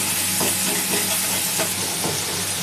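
Soaked spice paste hitting hot oil where cumin has already crackled, giving a loud, steady hiss of frying with a few soft stirring scrapes underneath.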